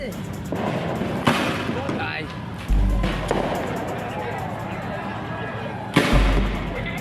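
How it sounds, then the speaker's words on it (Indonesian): Several sharp, loud gunshots ring out at irregular intervals during a street clash between students and police in Makassar, over steady crowd noise and shouting, echoing in an open area. "Stop tembakan, stop tembakan."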